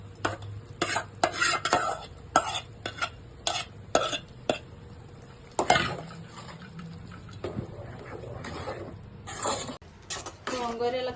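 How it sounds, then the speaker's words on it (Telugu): Ground gongura leaves being stirred into a simmering curry in a pot, with repeated scraping and clinking strokes of a spoon over a soft bubbling background, close and moderately loud. "ఇలా రుబ్బుకున్న గోంగూరను మనం ఉడుకున్న కూరలో వేసి కలుపుకుందాం"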